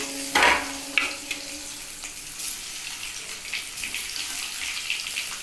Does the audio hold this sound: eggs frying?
yes